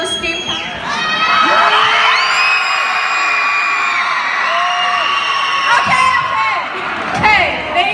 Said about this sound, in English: Can everybody scream so that we can fill the scream capsule?